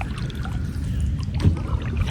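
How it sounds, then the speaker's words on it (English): Canoe or kayak paddling down a Florida river, with a soft close splash and swirl of water around the hull over steady low outdoor rumble, no talk. "we're gonna go ahead and paddle on down here"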